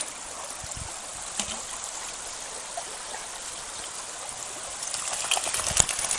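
Red Creek, a tea-coloured mountain stream, flows steadily in a wilderness backcountry setting, a continuous moderate wash of running water with a few small splashes, growing slightly louder near the end.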